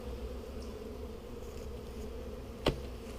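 Honey bees buzz steadily in the lower part of an open hive, a continuous close drone with a brief louder burst near the end and no talking.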